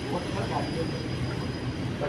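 Senior travellers ride a passenger train in Canada, with a steady rumbling roll of wheels and carriage noise heard from inside the car, a voice briefly present.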